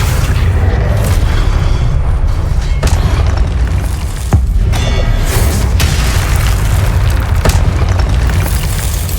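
Spell explosions from the Hogwarts Legacy video game during Rackham's Trial pound out as loud, repeated booms over a dense, continuous low rumble, with sharp blasts landing every second or two.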